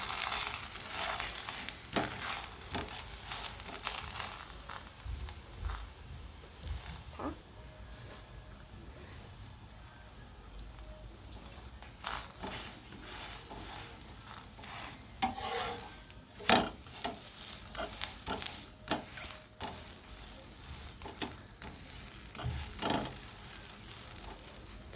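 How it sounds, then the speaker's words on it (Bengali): A veg golaruti flatbread fries crisp in oil like a paratha, a soft steady sizzle broken by repeated scraping and stirring clicks of a spatula in the pan, close up with no talking. "আমি একটু তেল দিয়ে ভালো করে পরোটার মতো করে মচমচে করে ভেজে নেব"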